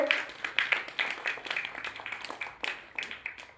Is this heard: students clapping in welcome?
yes